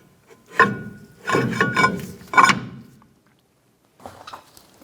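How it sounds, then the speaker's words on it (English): A brake drum on the rear axle of a 1994-2004 Chevrolet S10 gets slid and scraped into place, three close metallic scraping and clunking bursts followed by a faint shuffle. "And we'll go ahead and install our drum."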